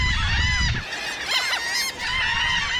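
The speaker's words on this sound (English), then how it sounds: "The ones making the racket are terns." A dense tern colony on Eastern Egg Rock, an island seabird nesting site, fills the air with overlapping harsh, raspy calls from many birds at once, a loud continuous racket with no talk.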